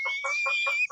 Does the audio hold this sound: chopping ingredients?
no